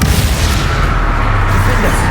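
A Confringo blasting spell explodes in Hogwarts Legacy, a loud, dense, continuous rumbling blast that fills the whole stretch with heavy low-end crackle.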